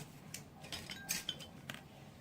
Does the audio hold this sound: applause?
no